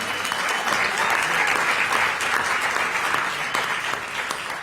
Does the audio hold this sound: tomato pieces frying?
no